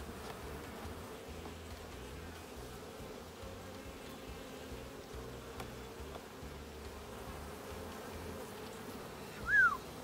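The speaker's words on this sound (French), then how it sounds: "Il y a des abeilles dessus." Buckfast honey bees on a winter brood hive frame make a steady, dense buzzing hum that holds through the whole stretch, with a brief brighter whine near the end.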